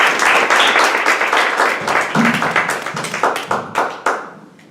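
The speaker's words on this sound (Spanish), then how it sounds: "un aplauso" Audience applause at a talk on the rights and autonomy of older people: dense, loud clapping from a crowd that holds steady, then thins into scattered claps and fades out.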